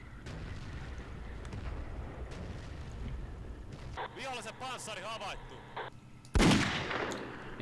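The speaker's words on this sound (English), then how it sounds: "some mortars firing as well, or some tanks or something" Muffled booms of mortars or tank guns firing in the game Battlefield 1942 rumble in the background under talk, followed by a sudden loud blast near the end.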